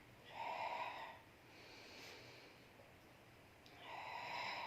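Two forceful exhalations through the nose or mouth during a Pilates exercise, each a breathy rush of air lasting under a second, close and soft, separated by quieter breathing.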